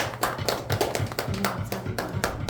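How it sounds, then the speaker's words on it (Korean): A church congregation at a Sunday worship service claps together in quick, even rhythmic beats, close and clear, with no voices over it. "박수하겠습니다."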